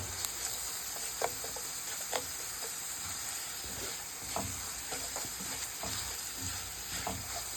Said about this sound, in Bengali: এটা যখন আরেকটু ভাজা ভাজা হয়ে যাবে, আমার রসুনটা যখন একটু ব্রাউন কালার হয়ে যাবে, গোল্ডেন ব্রাউন